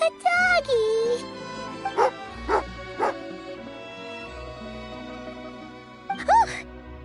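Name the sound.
angry dog barking in a video game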